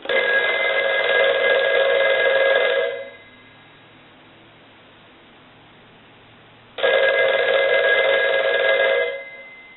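A Western Electric 302 rotary desk telephone's mechanical bell rings loudly for about three seconds, stops for several seconds, then rings again for a few more seconds.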